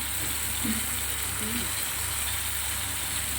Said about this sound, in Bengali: একটু ভালো করে কষিয়ে নিই।